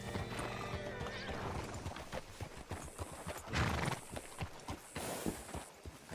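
Horse hooves clip-clop steadily in Red Dead Redemption 2 while a horse whinnies loudly partway through, set against game ambience.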